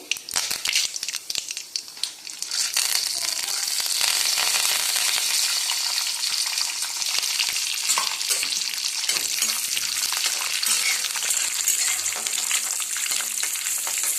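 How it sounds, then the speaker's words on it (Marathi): Roasted, skinned peanuts fry in hot tempered oil for a puffed-rice sushila recipe, a loud, dense crackling sizzle that swells after the first couple of seconds and continues steadily, with no talk. "छान तडतड्यानंतर आपण पहिल्यांदा टाकणार आहोत शेंगदाणे"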